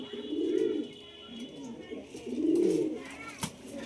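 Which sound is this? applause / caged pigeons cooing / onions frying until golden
caged pigeons cooing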